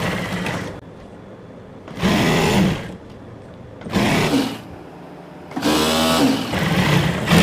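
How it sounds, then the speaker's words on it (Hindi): Sewing machine stitching trouser pieces together, four loud close bursts of rapid mechanical whirring separated by short quiet pauses. "ये सिलाई हमने दोनों पाँचों पे लगा के कंप्लीट कर ली है इस तरह से।"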